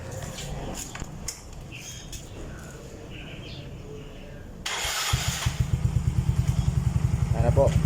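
A Yamaha Mio Soulty scooter with an ORBR aftermarket exhaust pipe idles quietly under nearby talk, then revs up loudly around midway into a deep, rapid pulsing drone that builds toward the end.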